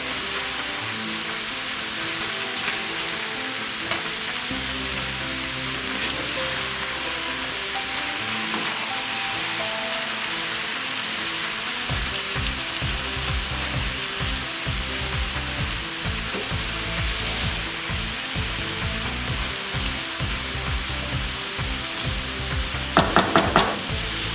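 Southern-style sweet potatoes cooking over medium heat in a pan, giving a continuous moderate sizzle and bubbling hiss with occasional stirring knocks and a short clatter near the end, without any talk.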